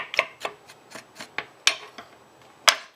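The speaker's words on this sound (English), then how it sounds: "you want to just keep scraping off until you have a clean, needle-free cactus pad" A knife scrapes the needles off a cactus pad in short, separate rasping strokes, about eight over a few seconds, close by and with no one talking.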